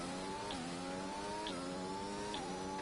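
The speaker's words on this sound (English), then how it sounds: "So now the car is full power." A Formula 1 car in the F1 2021 racing game runs at full power, a steady high engine whine with repeated gear-change dips about once a second, loud and continuous.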